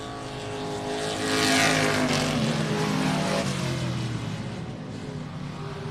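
Race cars running the 20-lap main event at Texana Raceway Park, a dense, loud roar of engines that swells near the middle and holds steady, blending several cars at once.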